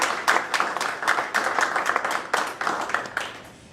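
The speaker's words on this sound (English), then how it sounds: "So I'd like to give a large round of applause to these people." Audience applause at a social services press conference, a burst of clapping from a crowd that swells and fades in waves over a few seconds, fairly close and lively.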